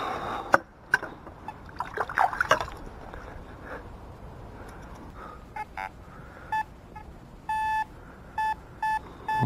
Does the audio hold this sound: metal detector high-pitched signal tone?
yes